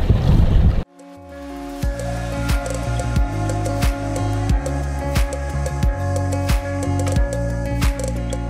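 Strong wind and waves at sea around a moored sailboat near Marstrand: deep, continuous roaring buffets, with repeated dull knocks and creaks in the background.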